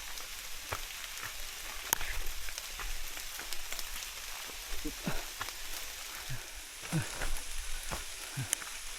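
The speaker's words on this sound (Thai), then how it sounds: "ฝนนี่ก็คือว่ายังตกทุกคนเลยตกเลยนะ" Steady hiss of heavy rain pouring down on a trip to fix an animal trail, with scattered drop taps and knocks, moderately faint and even throughout, under occasional indistinct voices.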